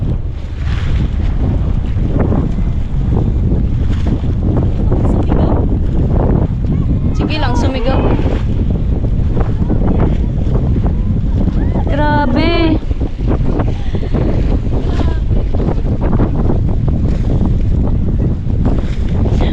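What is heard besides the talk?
choppy water waves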